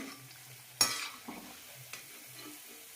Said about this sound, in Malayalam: ലോ ഫ്ലെയിമിലിട്ട് തന്നെ വറുത്തെടുക്കണം.